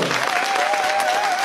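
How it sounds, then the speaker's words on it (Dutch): An audience gives dense, continuous applause after a stage performance, the clapping loud and even throughout with a faint tonal hum underneath. "Geef nog een daverend applaus."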